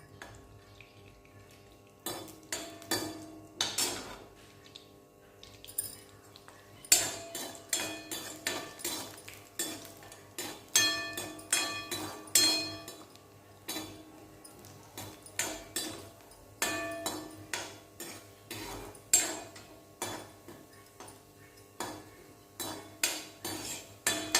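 Cashews roasting in a pan for bun halwa, stirred with a metal spoon: repeated bright clinks and scrapes against the pan in an irregular rhythm, close and moderately loud, with no talking.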